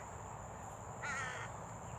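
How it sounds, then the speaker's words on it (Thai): A single crow caws a few times in quick succession over steady outdoor background hiss, moderately distant. "โอ้อีกาบินผ่าน"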